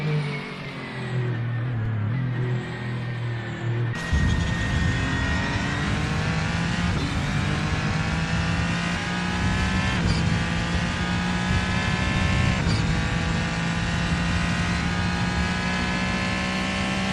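A Le Mans Daytona hybrid (LMDh) race car engine drones loudly and steadily on a practice out lap at Road America in Assetto Corsa, rising through revs after a sharp jump in volume, with gear changes shifting the pitch.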